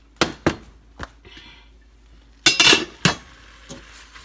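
A pot of drained potatoes is set back on the stove with a series of sharp metallic clanks and knocks, spaced irregularly, close and fairly loud in a quiet kitchen.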